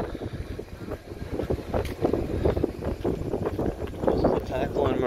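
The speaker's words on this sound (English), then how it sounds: "See how windy it is. It's like a southerly, south wind." Strong southerly wind gusts across a marina, buffeting the microphone with a rough, roaring rush that swells and eases, while a person talks over it.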